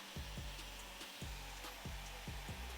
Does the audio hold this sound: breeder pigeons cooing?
no